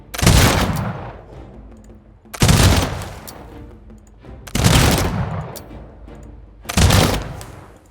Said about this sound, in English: Let's open up with some withering volley fire.